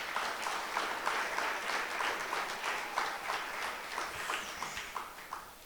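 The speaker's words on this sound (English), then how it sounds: "this deserves a special round of applause" An audience at a golf programme ceremony gives a round of applause, a fairly soft, moderately paced clapping where individual claps stand out in a loose rhythm before thinning toward the end.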